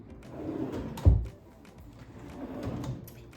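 A wooden drawer in a hotel room at Disney's Polynesian Resort slides open and shut, with one sharp thump from a close at mid-clip amid softer sliding rubs.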